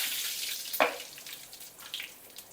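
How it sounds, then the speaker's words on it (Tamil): Quiet sizzling of mustard seeds and curry leaves in hot oil, with a brief sharper crackle burst near the start, faint and close. "கருவேப்பிலை பொடிஞ்சு வர நேரம் சாம்பார் வெங்காயம் தாளிக்க"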